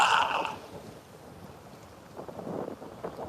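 Cold, big ocean waves at a beach wash and roar in a broad, rushing wash, fading to a low hiss before a fresh surge builds again, with wind buffeting the microphone and no talking.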